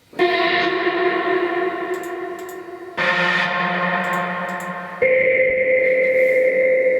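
Sustained synthetic tones drenched in heavy reverb, changing pitch in three long sections, loud and washy with lingering echoes.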